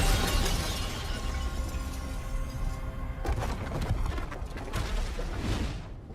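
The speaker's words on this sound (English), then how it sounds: "With a massive beam of light, Lloyd and the beast shatter the Crystal King once and for all" Crystal shattering in an animated Ninjago battle scene, a loud sustained crash of breaking glassy debris with a sharp burst near the middle, dense and close throughout.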